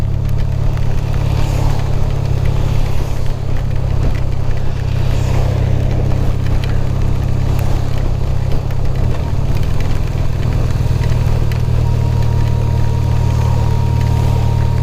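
A BMW motorcycle accelerates onto the highway, its engine droning loud and steady beneath heavy wind rush, with a slight shift in tone partway through.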